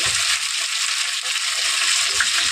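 Dried red chillies and panch phoron frying in hot oil, a dense, steady hiss of sizzling that stays loud and even throughout, close up, with no speech.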